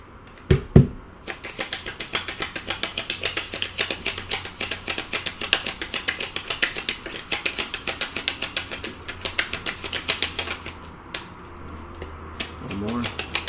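Tarot cards are cut and shuffled close up, producing a long run of rapid, crisp flicking clicks that continue for about ten seconds before slowing.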